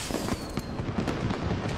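Fireworks burst in the Hitman video game's Paris level, a quick run of crackling pops and muffled booms packed closely together over a steady background of noise, moderately loud and with no one talking.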